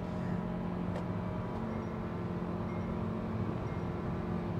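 Steady road and engine roar inside a new MG Hector SUV cruising at high speed, around 130 km/h, a continuous dense drone with no voices.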